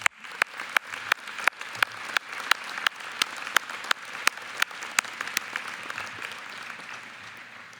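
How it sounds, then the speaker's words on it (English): A commencement audience applauds veterans, a broad wash of clapping with a few sharp, distinct claps standing out near the microphone in a regular rhythm, steady and sustained without speech. "Let us thank all of our veterans for their service with a round of applause."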